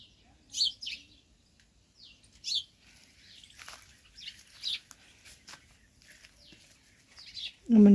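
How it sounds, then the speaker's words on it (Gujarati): Birds chirp and call from trees at a village farm orchard, with several short tweeting bursts spread across the clip and a low outdoor rumble beneath. A brief loud thump comes at the very end. "નીચો આ બધા ઝાડવા હે ને તે પક્ષી હોય ને એની બેહવાની એવી મજા આવે."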